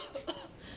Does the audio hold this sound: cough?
yes